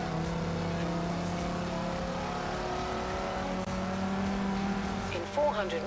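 Opel car driven in the racing game Forza Horizon 4, a steady engine drone with a low hum and rising tone, someone talking over it throughout.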